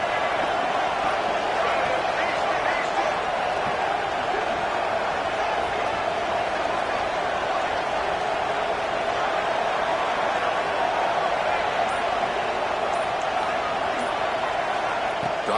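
Stadium crowd at a football game on a key third down, a steady, dense roar of cheering that holds throughout without letup, with announcer-style talk faintly mixed in.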